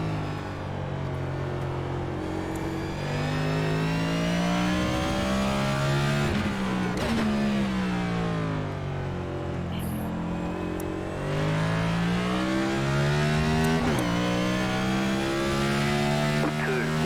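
A NASCAR race car engine in the iRacing sim at COTA drones steadily and loudly the whole time, its pitch rising and falling through revs and shifts, with brief tire scrubs on corners.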